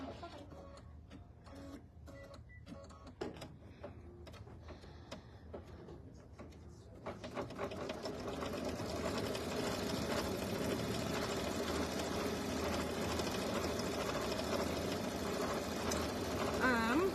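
A sewing machine stitching a mini quilt, first in short stop-start bursts, then running in a fast, steady whirring drone for the second half, with people talking quietly over the start.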